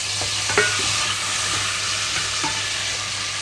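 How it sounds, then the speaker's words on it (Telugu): Chopped tomatoes frying in a pan with mint and coriander, a steady close sizzle with a few stirring knocks and scrapes, no voices. "ఇందులోనే కట్ చేసి పెట్టుకున్న టమాటో కూడా వేస్తున్నాను"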